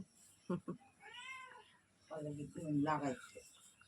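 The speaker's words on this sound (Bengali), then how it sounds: "মিনি ডাকছে খাজুর, ম্যাও ম্যাও।" A cat gives a couple of close meows in a quiet home. A voice talks softly over and around the calls.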